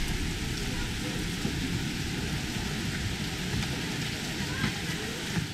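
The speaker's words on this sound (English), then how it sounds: "So it's turned into hail." Hail pelting down during a mountain hike in the High Tatras, a dense, steady broadband clatter with no pauses, loud and close throughout.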